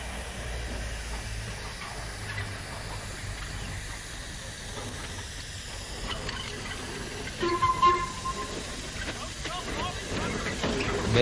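Steam hisses from the leaking pipes beneath a Ffestiniog Railway narrow gauge double engine in Wales, a steady broad hiss under low rumbling with a brief whistle-like tone near the end, and a voice talks over it.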